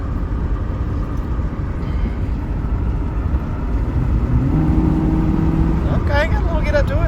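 A 1979 Buick driving along with steady, loud low engine rumble and road noise, a rising tone of the engine climbing through the gears partway in, and a voice talking over it near the end.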